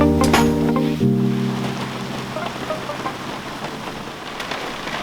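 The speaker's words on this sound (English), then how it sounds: "It was a rainy night after work" Steady rain falls at night on and around a converted prison bus, a dense close patter throughout, with a low rumble of thunder fading at the start and a brief tonal hum early on.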